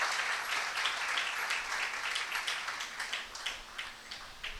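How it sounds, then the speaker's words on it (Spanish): A church congregation at a Sunday service applauds, a fairly soft but steady patter of many hands clapping, with a few sharper claps standing out as it starts to thin toward the end. "denle un fuerte aplauso al Rey de Reyes y Señor de"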